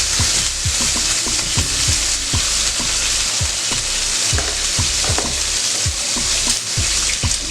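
Bacon frying in butter in a pan, giving a steady loud sizzle with frequent sharp pops and spits, close and alone.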